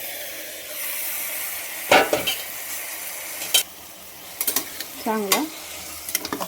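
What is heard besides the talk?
mutton mince frying and being stirred with spices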